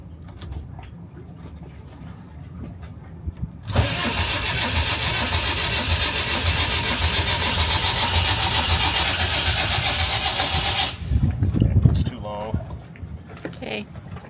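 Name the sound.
sailboat engine cranking, failing to start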